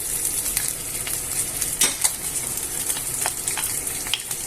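Chicken and chorizo for a stew of red beans and potatoes fry in a pan, a steady close sizzle broken by scraping stir clatters as the pieces are turned over.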